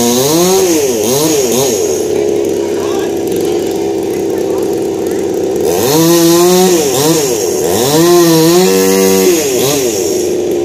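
A chainsaw cuts a large fallen old tree into firewood, loud and close, its engine revving up and down in repeated whining surges as the chain bites and eases.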